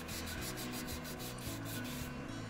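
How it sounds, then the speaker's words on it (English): Wood being sanded by hand during restoration of a Gibson ES-330 cutaway guitar: steady back-and-forth rasping strokes in a regular rhythm, close and continuous. "A lot of sanding in this work."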